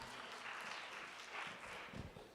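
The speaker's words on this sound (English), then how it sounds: "Can I get a round of applause for that?" An audience at a Jewish music concert claps in response to a call for a round of applause, a steady dense patter of many hands that holds throughout and fades slightly at the end, heard faintly and at a distance.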